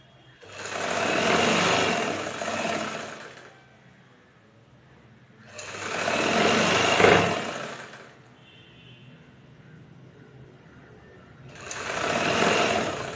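A sewing machine stitches the folded edge of a saree in three separate runs of steady whirring, each lasting a few seconds, with quiet gaps between them.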